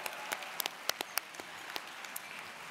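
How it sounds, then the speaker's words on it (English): Scattered, light clapping from an audience at a school district awards dinner, a few sharp individual claps spaced irregularly over a faint, quiet room background. "Let's please all of us give another round of applause to the students from the Wakaiva High School Jazz"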